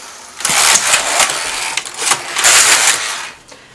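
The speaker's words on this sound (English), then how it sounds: "Knit 2 rows." A Passap knitting machine carriage knitting two rows, heard as two loud mechanical whooshing, clattering passes close by, each about a second long with a short pause between, and no talking.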